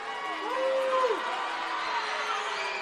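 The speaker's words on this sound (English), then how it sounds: "They're making their voices heard." Glenpool fans in a high school basketball gym cheer and shout as a dense crowd roar, with a whoop rising briefly in the first second.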